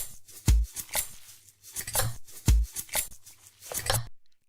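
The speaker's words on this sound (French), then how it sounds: "C'est moi qui coupe le beurre." A knife slicing through a block of butter in a children's kitchen cooking session gives a few soft, close thuds against the board, with light scraping and handling noise in between.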